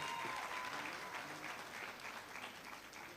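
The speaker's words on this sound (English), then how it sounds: "Shall we give another round of applause to Michael?" Audience applause fills a university congregation hall, a dense, steady wash of clapping that holds at an even level for about three seconds without letting up.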